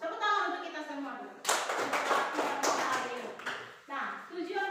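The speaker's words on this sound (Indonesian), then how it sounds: "Tepuk tangan untuk kita semua dulu." A classroom of children claps together in a dense, sustained burst of applause that starts abruptly, with a teacher's voice speaking before and after it.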